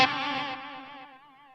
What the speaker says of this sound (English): So should have a dual delay now.